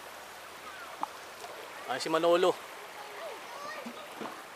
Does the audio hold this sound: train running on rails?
no